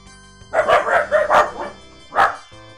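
Dogs barking in a quick cluster of four or five loud, close barks, a short pause, then one more bark, with no talking.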